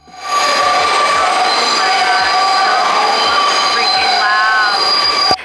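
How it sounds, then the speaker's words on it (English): Loud train passing on nearby tracks outside an NYC apartment, with a constant roar, high metallic wheel squeal and rhythmic clicks over rail joints, close and sustained before cutting off abruptly. "I live by the train tracks, which is so freaking loud."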